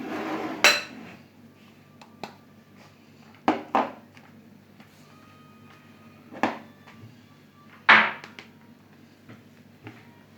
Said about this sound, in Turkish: şu ıslatılmış ince bulgurumuzu ve haşlanmış mercimeğimizi karıştıralım